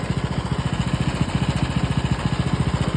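A Kubota engine driving a water pump with 80 mm suction and discharge ports runs close by, chugging in a rapid, even, sharp beat.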